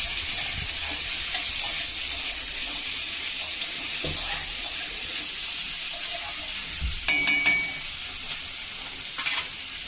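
Chopped onions frying in hot oil with dried red chilli and bay leaves for a homemade ghugni: a steady close sizzle with a few soft stirring clinks, and no talking.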